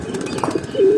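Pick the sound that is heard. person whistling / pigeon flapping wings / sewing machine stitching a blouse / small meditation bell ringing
pigeon flapping wings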